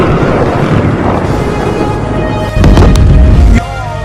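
Explosions strike Tehran during an attack, heard as a dense, heavy rumble filled with wind-like noise and a louder burst of booming impacts partway through, with no voices.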